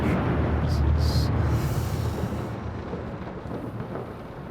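Thunderstorm at night in the horror video game Layers of Fear, a loud rolling rumble of thunder with steady rain that slowly fades over several seconds, heard without any talk.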